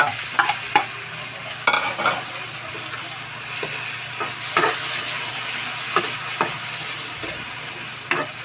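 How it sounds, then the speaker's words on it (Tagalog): Chopped tomatoes sizzle in a hot frying pan while a utensil stirs and scrapes them, as fish is cooked with tomatoes. The sizzle is steady and close, broken by sharp stirring taps. "Ilagay ko na yung kamatis"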